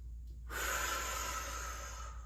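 A single long, close, airy inhale during a yoga flow begins after a brief quiet moment and holds steady as a soft rushing breath until the end.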